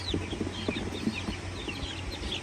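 Backyard chickens cluck and make short calls close by, several birds over one another in uneven bursts against a light background hum.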